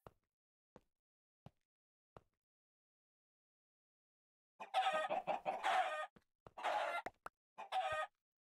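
Chickens in the modded Minecraft pack StoneBlock 3 give a few soft taps, then bursts of clucking and squawking from the game's farm birds, close and clear, with no talk.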